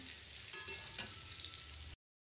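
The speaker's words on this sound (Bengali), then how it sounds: "চিংড়ি মাছটা ভেজে নেব।" Prawns fry in hot oil in a pan, a steady close sizzle with a couple of louder crackling bursts as they are moved, continuing for about two seconds before cutting to silence.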